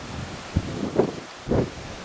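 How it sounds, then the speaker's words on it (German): Strong wind, around force 6, on the outer deck of the cruise ship Mein Schiff 4 at sea, blowing in a few uneven gusts and buffets against the microphone over a steady rushing background. "Es ist sehr windig."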